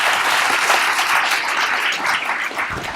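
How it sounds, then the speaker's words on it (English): A debate audience applauds two debaters with dense, continuous clapping that holds steady at full strength for the whole stretch. "I hope everyone give our 2 debaters a big round of applause."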